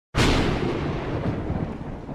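A sudden loud clap of thunder from a gathering storm breaks out of silence, then rolls on as a deep, sustained rumble without fading.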